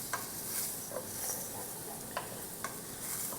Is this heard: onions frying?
yes